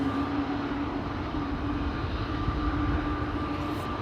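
A KLM Embraer E195-E2 airliner at Amsterdam Schiphol gives off a steady, moderately distant engine roar with a faint tonal hum, holding even and unbroken throughout with no voices.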